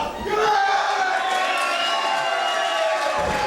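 A capacity crowd cheers and roars inside a professional wrestling arena, a loud, sustained wash of voices with rising shouts that holds steady throughout.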